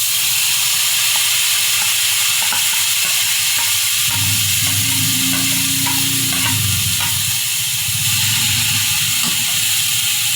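Sliced bitter gourd (ampalaya) sautéing in a very hot pan gives a steady loud sizzle and hiss, which swells into a heavier crackling fry about midway as the vegetable hits the oil, with stirring scrapes throughout.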